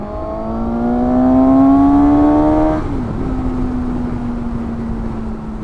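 A Suzuki GSX-S 750 motorcycle revs hard up a highway on-ramp, its engine note climbing steadily in a loud, close, rising whine before a brief shift dip and a steadier drone as it keeps pulling.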